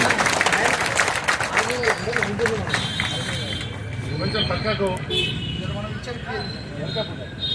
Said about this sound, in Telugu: అందరూ కూడా చప్పట్లతో స్వాగతం పలకాలని చెప్పి